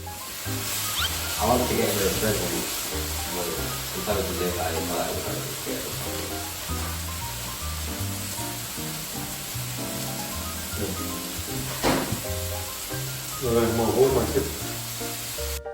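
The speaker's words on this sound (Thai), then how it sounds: "มาช่วยกันปิ้งเลยลูก" Food sizzles and hisses on a home grill, with intermittent scraping and clatter as pieces are turned, while people talk nearby throughout.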